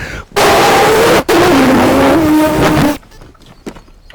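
A person imitates a racing car engine with their voice, a loud close revving drone that rises and falls over about three seconds with one short break for breath, followed by quieter background noise.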